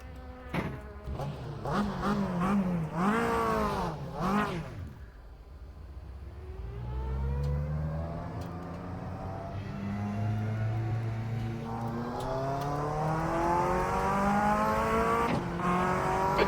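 Mazda MX-5 Cup race car in a racing video game at Detroit, its buzzy high-revving engine climbing through gears, bouncing off the rev limiter, then dropping and rising again, loud and continuous up close.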